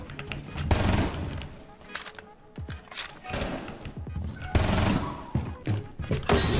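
Gunfire in the tactical shooter Rainbow Six Siege: loud bursts of automatic fire come in several rapid volleys with thumps between them, and a voice talks over parts of the action.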